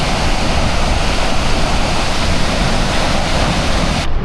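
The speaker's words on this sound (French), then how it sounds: "Regardez en bas de la cascade" A powerful waterfall in Yosemite roars as a dense, loud and unbroken rush of water, with no voices heard over it, then cuts off abruptly at the very end.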